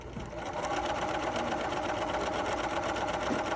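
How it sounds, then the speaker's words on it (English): A sewing machine runs steadily, stitching a seam along fabric guided at a 5/8 inch line, with a continuous close, even motor whir and needle chatter throughout and no talking. "continuing sewing."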